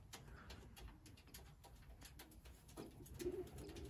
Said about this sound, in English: The one making the ruckus down there is actually the 2-time ace pigeon